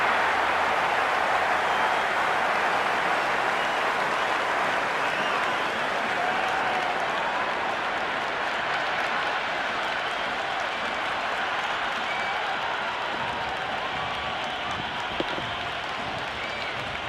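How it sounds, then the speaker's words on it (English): A stadium crowd in the cricket video game Cricket 26 applauds and roars without a break, a dense, loud wash of clapping and cheering that fills the whole stretch. "There's an almost tangible fervour throughout the crowd at the moment."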